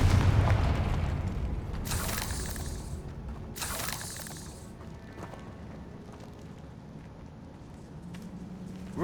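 Two heavy blasts from the Confringo fire spell in Hogwarts Legacy, cast in a decaying catacomb, each a broad crashing burst that rolls off into a low rumble, with no talking.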